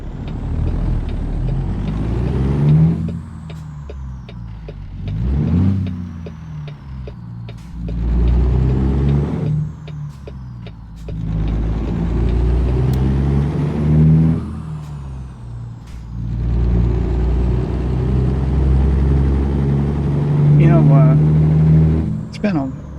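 Truck engine in American Truck Simulator, a deep steady rumble rising and falling with gear shifts, with air-brake hisses and a nearby truck passing, someone talking over it throughout.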